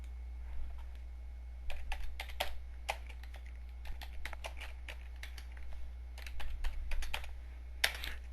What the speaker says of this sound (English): Enter the zip code and tab to the next field